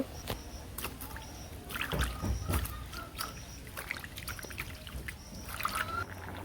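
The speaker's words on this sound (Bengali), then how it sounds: "এখন পাতাগুলো আর কি ধুয়ে নেব ভালো করে কারণ পাতার মধ্যে ময়লা টলা আছে" Leaves being washed by hand in water in a village home: steady close sloshing and trickling with a few splashy surges, no talking.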